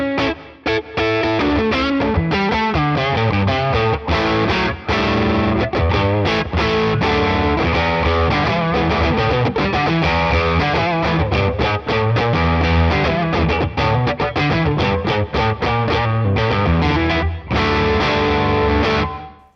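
Electric guitar played through a NUX MG 50 Li amplifier with the gain turned up, loud distorted chords and riffs ringing continuously with effects, no talking.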